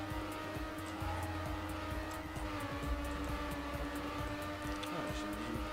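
A car accelerates in the racing video game TrackMania Nations, a continuous engine whine holding steady at moderate level with faint repeating ticks and small pitch shifts throughout.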